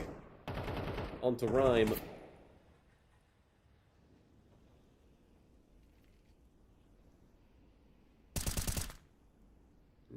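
Gunfire in an esports match of a tactical shooter bursts out in two loud rapid volleys, one near the start with a commentator talking over it and another later after a quiet stretch.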